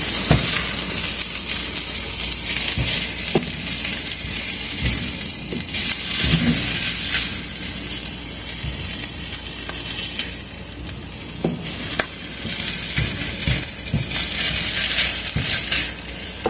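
Pork chorizo frying in a pan, a dense continuous sizzle with occasional crackles and the scrape of stirring, close and loud with no talking.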